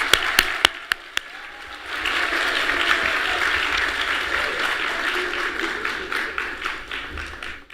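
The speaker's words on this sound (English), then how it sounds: "So let's give your teachers and chaperones a round of applause." A school audience applauds teachers and chaperones at an African American Read-In, a few sharp separate claps leading into steady, full applause that rises and holds close by.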